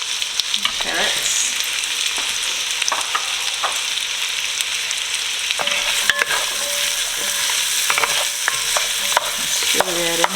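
Celery and carrots sizzle steadily in a soup pot while a utensil stirs and scrapes through them, with repeated clicks and scrapes over a close, constant frying hiss.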